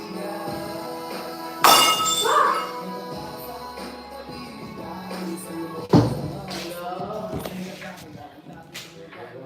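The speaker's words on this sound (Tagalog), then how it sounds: "Nabasag ko yung baso." A drinking glass slips from a wet hand and breaks indoors, a sharp crash near the start followed by a second impact, with voices talking around it.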